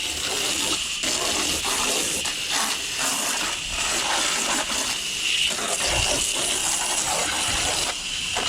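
Water rinses through the bottom of an air-conditioning unit during servicing, a steady broadband gush and hiss running continuously and fairly close throughout, with no talk over it.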